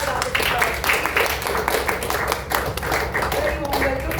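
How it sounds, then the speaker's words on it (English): A seated audience applauds a newly introduced panelist at a talk event, a dense steady patter of clapping hands with some voices mixed in throughout. "Mr. Anand Ashok, can we have a round of applause?"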